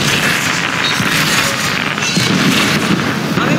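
Firecracker bursting inside the video game ARK during a boss fight, heard as a dense, sustained roar of loud booming blasts filling the whole stretch with no gaps.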